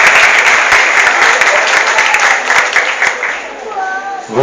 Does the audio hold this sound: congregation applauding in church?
yes